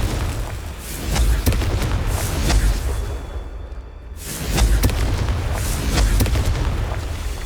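Confringo blasting spell explosions in a video game, heavy booming bursts with rumbling low end that swell and recur, broken by a brief near-silent gap before the booming resumes.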